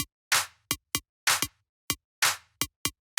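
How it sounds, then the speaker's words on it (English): A punchy clap sample for a minimal house track, a crisp sharp hit repeating in a steady syncopated pattern with short ticking accents between, played alone without talk. "So what this really is, it's just the clap."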